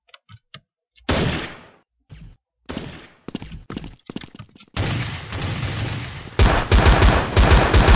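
Gunfire rings out in the shooter game Blood Strike, with a few scattered shots and clicks, then loud, sustained automatic bursts toward the end, close and with no talking.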